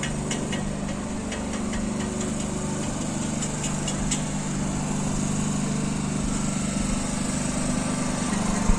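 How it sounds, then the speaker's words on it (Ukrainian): Power generators run at a construction site for residential buildings during a power outage, giving a loud, steady engine drone that holds unbroken throughout, with faint knocks of work over it and no voices. "Світла зараз немає, тому ми працюють генератори"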